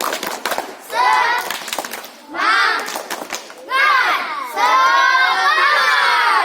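A class of schoolchildren in a PE lesson does a rhythmic spirit clap, their loud chanted shouts rising in several bursts with quick hand claps near the start, close and lively.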